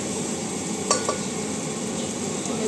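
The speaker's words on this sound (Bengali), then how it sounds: "একটু ভাজা ভাজা হয়ে যাক।" Garlic fries in oil with onion, bay leaf and cinnamon for a chicken stew, a steady soft sizzle punctuated by a couple of quick clinks of a utensil against the pan, with no talk.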